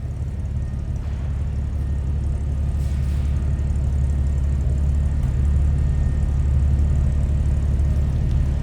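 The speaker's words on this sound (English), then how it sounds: "a little rumble coming out of that inline 235" A 1953 Chevrolet Bel Air hardtop's inline 235 engine idles in a steady, close low rumble that holds even and unbroken throughout, with no voices over it.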